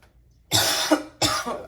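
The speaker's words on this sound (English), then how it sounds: "Excuse me for coughing, I'm sorry about that." Two loud, close coughs in quick succession after a moment of near silence.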